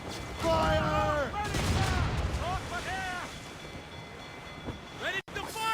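Ship cannons fire in a naval battle in the video game Assassin's Creed Rogue, with booming rumbling blasts and crackling volleys under shouted voices and crew calls.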